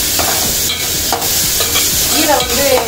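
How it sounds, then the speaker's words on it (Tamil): Onions frying in a pan for a drumstick-leaf stir-fry are stirred with repeated scraping strokes over a steady, close sizzle, with no talking. "சேர்த்து நல்லா கிண்டி விட்டுருவோம்."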